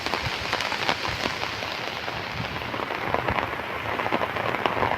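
Heavy storm rain with gusty wind pours down beside a railway line, a dense, close patter of drops hammering surfaces without a break, while occasional louder gusts and splashes rise above it.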